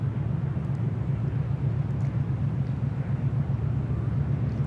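An Air New Guinea airliner taxis toward runway 34 at Sydney Airport, giving a steady, continuous low engine rumble and hum with no breaks, heard from a distance and without voices.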